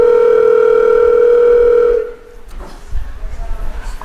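Steady, loud telephone dial tone while a call is being placed, held for about two seconds before cutting off into quieter room noise with faint rustling and voices.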